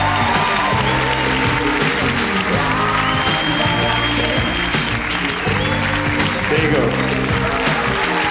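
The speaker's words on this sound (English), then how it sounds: "Give her a big round of applause." A live comedy show audience gives a big round of applause, dense and loud, with cheering and a band or music going underneath and some voices mixed in.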